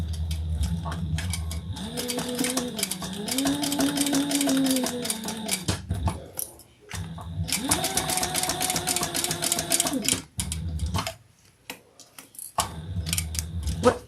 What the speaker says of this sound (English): now we're going to sew down the sides and sew our accordion in